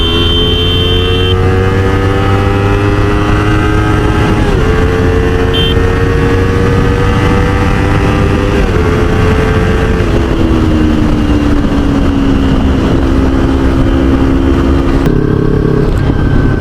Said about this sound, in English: yes, this bike is revving up very freely